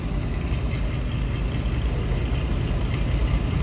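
A 1956 Oldsmobile 88 Holiday's 324 V8 with a Rochester 4-barrel idles close by, a low, even rumble holding steady throughout with no other sounds.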